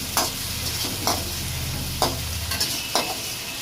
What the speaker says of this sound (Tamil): வெங்காயம் தக்காளியும் நல்லா வதங்கணும்